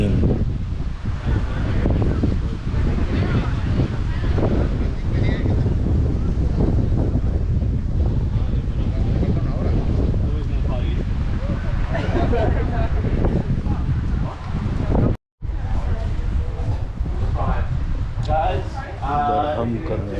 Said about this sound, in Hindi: हवा चल रही है बड़ी तेज